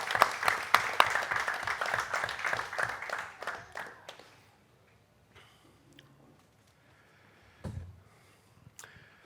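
Brief applause at a basketball club press conference in Viimsi as the head coach takes his seat at the table, a few seconds of scattered clapping that quickly dies into a quiet room with small shuffling noises.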